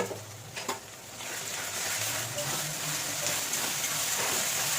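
Ginger, green chilli and garlic paste frying in a pan, a steady close sizzle that swells after a short scrape near the start and continues evenly.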